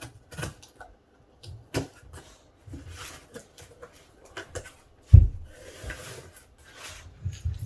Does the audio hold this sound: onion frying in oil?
no